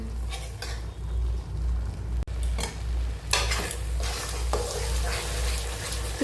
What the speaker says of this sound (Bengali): খুব ভালোভাবে নারকেল বাটাটা মশলার সাথে ভেজে নিচ্ছি।